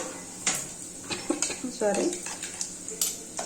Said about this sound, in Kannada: ಜೀರಿಗೆ ಮತ್ತು ಬೆಳ್ಳುಳ್ಳಿ ಇದು ಕುಟ್ಟಿರ್ತೀವಲ್ಲ, ಇದನ್ನು ಹಾಕ್ಬಿಟ್ಟು ಚೆನ್ನಾಗಿ ಈ ಥರ ಕಲಿಸ್ಕೋಬೇಕು